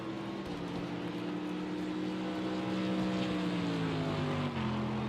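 An AMG-powered race car in the Project Cars 2 racing game, during a World Sports Car Championship race at Hockenheim, gives a steady droning engine note whose pitch shifts and climbs, heard alone at moderate loudness.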